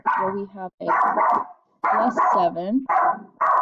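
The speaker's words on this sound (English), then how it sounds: "I apologize for the dog barking" A dog barks in short loud bursts close by, a series of about six yapping, whimpering calls that fall across someone speaking.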